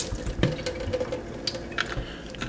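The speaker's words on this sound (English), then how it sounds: "And then we're going to fill it with filtered water." Filtered water running into a quart container that holds a few drops of fertilizer, a soft close-up trickle and splash with small drips, quiet and without talk.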